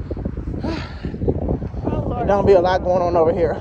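Cold wind buffets the microphone outdoors on a city's south side grounds, a steady low rumble beneath a person talking up close throughout.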